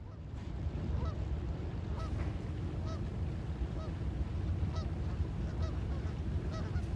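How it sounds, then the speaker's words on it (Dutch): Geese honk repeatedly from a distance, their calls faint over a steady, rumbling outdoor background. "Oh ja, kijk die ganzen."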